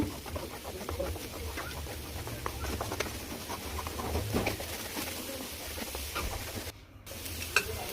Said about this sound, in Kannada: ನಾಲ್ಕು ಮೊಟ್ಟೆ ಹಾಕೋಣ ಚೆನ್ನಾಗಿ ಮಿಕ್ಸ್ ಮಾಡ್ಕೊಳ್ಳೋಣ